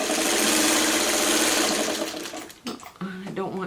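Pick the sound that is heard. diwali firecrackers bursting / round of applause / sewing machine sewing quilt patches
sewing machine sewing quilt patches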